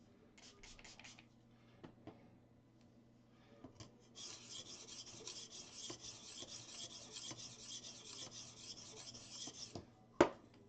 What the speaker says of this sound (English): I am sharpening a Cubitillius.